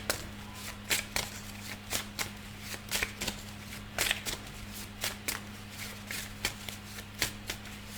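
A deck of tarot cards shuffled by hand, crisp riffling bursts repeating in a steady rhythm about once a second, close and clear over a faint low hum.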